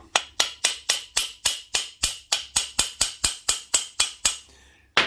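A hammer taps a metal part of a scrap Ryobi grass strimmer in a quick, even series of about fifteen sharp, ringing strikes, close and distinct, with no voices.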